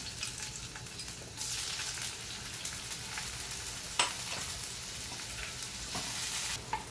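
Tomatoes sizzle and fry in a spoonful of hot oil for a spicy crab curry, a steady close crackle that swells a little partway through, with a brief clatter near the end and no talking.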